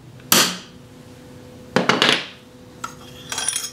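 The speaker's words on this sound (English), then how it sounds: "we're going to give it a good whack with a hammer to set that" A hammer strikes a punch to set it during a Sheridan Streak air rifle rebuild, with three or four sharp metallic hits spread apart, close and loud, each ringing briefly.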